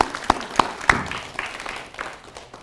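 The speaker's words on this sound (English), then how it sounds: "So let's give them all a round of applause." Members of a Mount Clemens Optimist Club essay contest audience give a round of applause, with a few sharp, close claps at first that quickly thin into lighter, scattered clapping that fades away.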